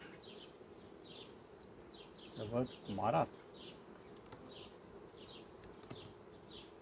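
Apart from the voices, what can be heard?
honey bees in a beehive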